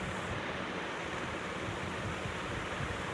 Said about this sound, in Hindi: फिर हमें डालना है लावा।